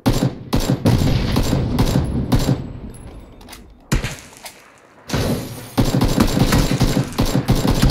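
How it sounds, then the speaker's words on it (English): Gunfire in PUBG, bursts of sharp rapid shots and cracks, loud and close, with a brief lull in the middle before the shooting resumes. "He's getting shot at."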